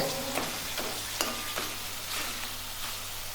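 A masala paste of ginger, garlic, onion, tomato and spice powder sautéed in a pan, steady sizzling broken by several sharp scraping stirs of a spatula, with no talking.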